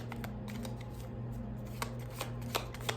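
A deck of tarot cards being shuffled nearby, with a steady riffling and soft slapping of cards and a few sharper taps, over a low background hum.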